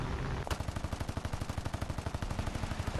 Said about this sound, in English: I love cannons so much.